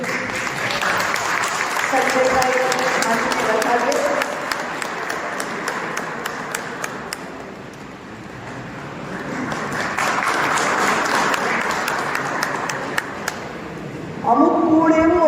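Sustained applause from a crowd at a Guruvandana ceremony fills the room, swelling and easing over several seconds, with a voice speaking over it at the start and end.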